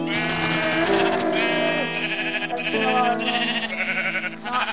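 Sheep in the Minecraft video game bleating repeatedly in wavering, drawn-out calls, loud and overlapping throughout, with a voice briefly speaking over them.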